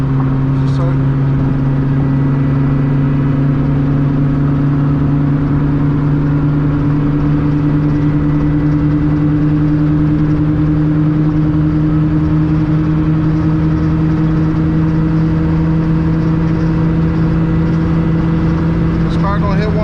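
A 1994 Honda EG hatchback fitted with a B20 two-liter engine pulls hard at speed, its steady, loud drone rising slowly in pitch over a long acceleration without a break, with road and wind noise underneath.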